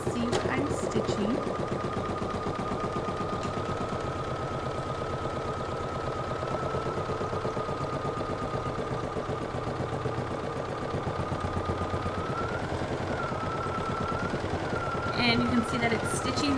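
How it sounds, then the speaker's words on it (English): An embroidery machine stitches onto stabilizer with a continuous, steady, fast mechanical hum and rapid needle chatter, close and even throughout, with a brief clatter near the end. "And you can see that it's stitching that directly onto the stabilizer."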